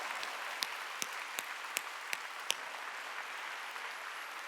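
Distant applause from a church congregation at a Wednesday worship service, a steady soft wash of many hands with a handful of crisp, evenly spaced louder claps standing out.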